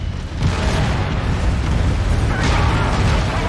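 A heavy, sustained explosion roar in the video game Mechwarrior 5: Mercenaries, a dense booming rumble that swells and stays loud throughout with a second surge near the end.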